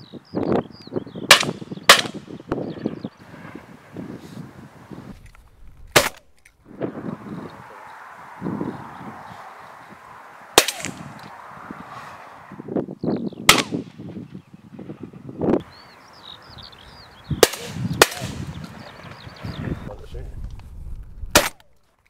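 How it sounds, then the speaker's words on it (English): Shotgun shots ring out at a pigeon shoot, several sharp loud reports spaced irregularly across the clip, some in quick pairs, with quieter outdoor background between them. "With one last shot, it's finally time to call it a day."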